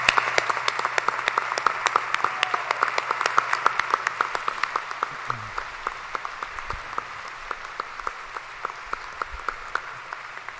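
A joint convention at the 2023 inauguration of Maine Governor Janet T. Mills gives sustained applause for dignitaries: a large crowd claps steadily for about ten seconds, dense and even, slowly thinning toward the end.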